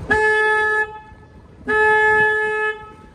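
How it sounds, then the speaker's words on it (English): Two long, loud tour-boat horn blasts on the San Antonio River, the second slightly longer, separated by a short pause, with no voices. "I have to honk the horn"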